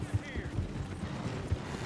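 Irregular hoof clops from a horse thudding along in the video game Red Dead Redemption 2, low and muffled, with a busy background mix and no clear voices over it.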